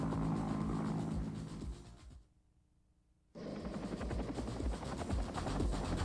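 Military helicopter in Vietnam War footage, a loud throbbing rotor drone that cuts out abruptly for about a second, then returns just as strong.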